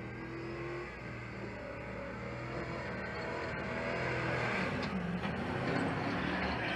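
A Toyota 4Runner engine revs before the truck rolls over. The faint, steady rumble builds gradually into a louder, rising roar heard from some distance.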